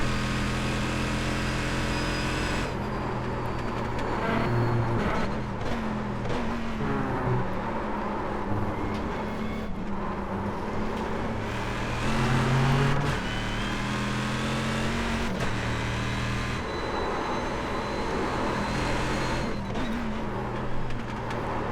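Corvette C6R GT1 race car engine in the iRacing sim at Le Mans, a steady loud drone with rising and falling revs and gear changes running continuously throughout.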